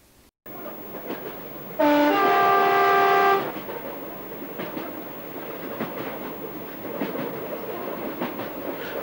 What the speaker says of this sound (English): we've got train going through in 1981